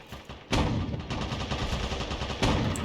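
Gunfire from a German GPz Mk VI (e) tank in a tank video game, two loud sharp blasts followed by dense rattling firing, close and continuous with no speech.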